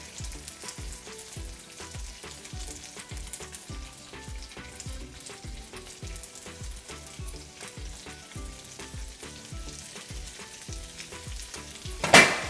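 Salmon sizzles in a pan with oil and garlic, a dense crackling fry with regular popping spatters throughout and a sharp louder burst at the very end.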